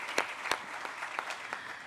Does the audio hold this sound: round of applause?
yes